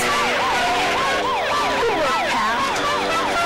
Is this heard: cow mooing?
no